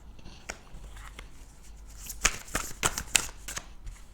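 Tarot cards shuffled and dealt during a French card reading, giving soft riffling swishes and several sharp slaps as cards are laid down, close and fairly quiet, with no talking.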